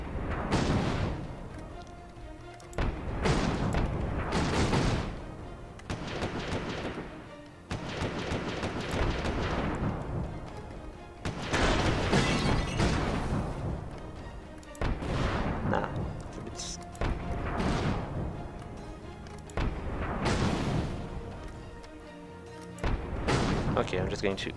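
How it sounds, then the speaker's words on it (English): Machine gun fire in the video game Windforge, sustained loud bursts with short gaps repeating throughout, dense and booming, with a player's voice talking over parts of it. "I'm just going to do that with my machine gun, it would be easier."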